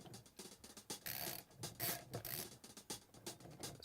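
Quiet, close clicking of a ratchet with an extension and 7/16 socket tightening bolts on a metal ski bracket, quick bursts of pawl clicks in an uneven back-and-forth rhythm, no voices.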